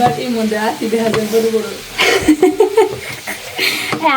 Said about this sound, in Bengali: এই পাশে মলা মাছটি ভেজে নেন